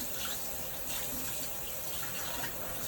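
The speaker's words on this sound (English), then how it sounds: "I'm going to let it soak under the faucet" A kitchen faucet runs steadily over makeup brushes being rinsed, a continuous close splashing and gushing stream that holds even and unbroken throughout.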